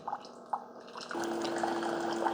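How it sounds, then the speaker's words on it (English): Hot rinse water from a Keurig K-Duo coffee maker, first dripping in a few separate drops, then running as a steady stream with a faint pump hum, close and quiet. "I've got fresh water coming out that's really hot"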